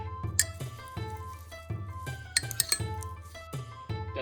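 A utensil stirs lemon juice, olive oil and garlic herbs in a bowl, making repeated close clinks and taps in an uneven rhythm with soft wet squishing between them.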